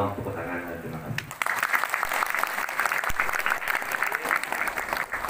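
Audience applause at an Atma Wedana ceremony in a Balinese village begins abruptly after a speech and carries on as dense, steady clapping from a sizable crowd, with a voice speaking over the start.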